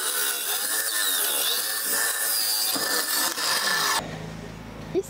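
A miter saw cuts through a 2x4 board for an angled window box, a loud continuous rasping buzz for about four seconds, then the blade winds down and quiets with a faint hum and a small knock at the end.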